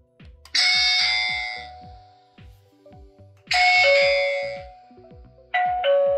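Botslab Video Doorbell 2 Pro chiming through its built-in speaker, loud bright ding-dong tones repeated three times over a steady rhythmic electronic melody, close and clear with no talking.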